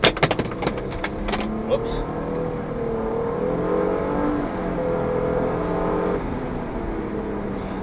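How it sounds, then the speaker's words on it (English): A 2013 Infiniti JX35 SUV in sport mode accelerates gently from low speed, its engine note rising in a steady, moderately loud hum heard from inside the cabin after a few brief clicks and a short spoken exclamation. "I'm going to give a little gas here."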